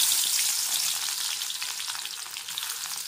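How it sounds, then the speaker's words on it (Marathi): Chopped onion sizzles in hot oil in a kadhai, a steady close crackling hiss with no talk that eases off slightly over a few seconds. "तेल चांगलं तापलंय कांदा टाकून घेते लगेच"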